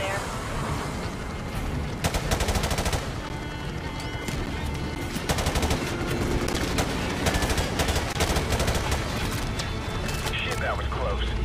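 Rapid automatic gunfire bursts and single shots from a Call of Duty 4: Modern Warfare Remastered firefight, loud and close, repeating in clusters over steady battle noise, with radio chatter running underneath.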